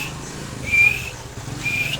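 A man imitating a whistle with his voice, two shrill sliding whistle notes separated by a short pause, close and clear with no talk over them.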